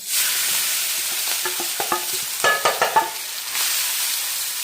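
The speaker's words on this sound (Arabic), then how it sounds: "بعد كده معايا 3 بصلات متقطعين بالشكل ده، هتنزلي بيهم على طول على الزيت وهو سخن." Three chopped onions hit well-heated oil and sizzle loudly, a dense close hiss broken midway by a quick run of scraping stirs and clatters before the steady frying resumes.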